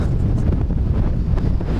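Steady, loud wind buffeting a microphone outdoors while metal detecting in north Lancashire, a continuous low rumble with no breaks and no voices.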